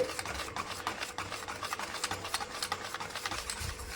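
Biscuit cake batter being stirred with a spoon after white oil is added, a quiet, rapid scraping and rubbing rhythm that repeats steadily and closely throughout.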